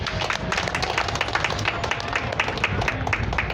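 A church congregation claps together in praise, a dense, steady patter of many hands filling the room at close range, with scattered voices rising underneath.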